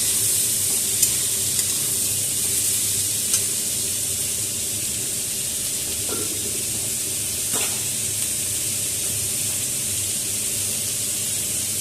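Spring onions and peas stir-frying in a pan for fried rice give a continuous hissing sizzle with a few scraping stirs of the spatula, close and steady, without speech.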